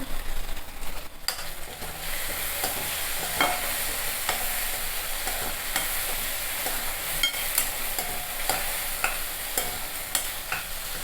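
Steady sizzling of tempering spices with salt and turmeric frying in hot oil, with occasional crackles and pops and the faint scrape of stirring, continuous throughout.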